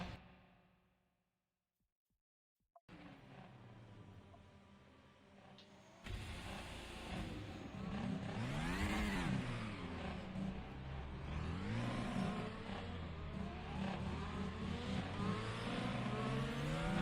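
An FX-22 race car engine in the RaceRoom racing game starts up after a brief silence, then revs repeatedly with loud rising and falling sweeps and a steady, aggressive drone between the revs.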